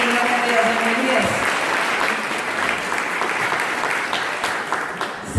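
Steady, dense applause from a crowd at a prayer group gathering fills the whole stretch, loud and sustained with no pauses.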